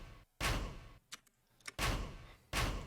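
A percussion sound in a beat: three loud, dry, noisy hits spaced about a second and a half apart, with faint clicks between them and no voice.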